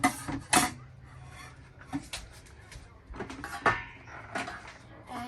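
A wooden cutting board and knife being put away in an RV kitchen: scattered light knocks, scrapes and clatters, with a cupboard-like thud, fairly close and quiet, while someone talks.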